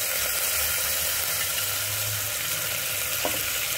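Mutton korma roasting in a pot with spices and a splash of water, a soft continuous sizzle and frying hiss at low volume with a faint low rumble underneath.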